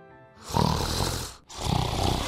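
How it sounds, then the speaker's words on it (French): A wolf lying under a tree in the fairy tale of the wolf and the seven young goats snores loudly, two long rasping breaths with a brief pause between them. "un loup gisait près de l'arbre et ronflait de sorte que les branches tremblaient"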